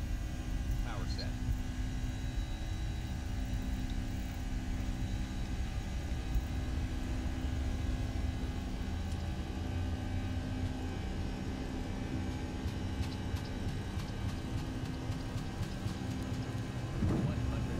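Airbus A320 engines spool to takeoff power in the X-Plane flight simulator, a dense continuous roar with steady tonal whines layered through it, holding constant throughout, with no voices in this stretch.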